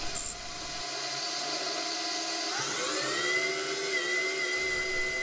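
A CNC mini lathe turns a 3/8-inch steam injector drain part with an FC insert at 3000 RPM, giving a steady, loud whirring machining tone with a rising whine partway through, continuous and alone.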